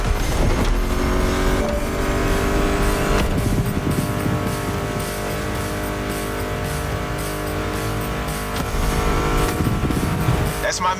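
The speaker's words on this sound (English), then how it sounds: "Meshes well with the sound of the engines" American muscle car engines in The Crew Motorfest video game roar and rev continuously with gear shifts and a tire squeal, loud and close, with a voice talking over the din.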